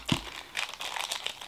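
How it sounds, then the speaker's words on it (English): A plastic bag around a unicorn toy is crinkled and tugged open, giving close, dry rustles and crackles in quick bursts after a soft thump. "Plastic bag is much stronger than me."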